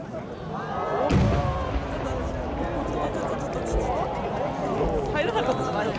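Fireworks shells exploding at the 87th national fireworks competition, one loud boom near the start followed by crackling and fizzing, with crowd chatter throughout.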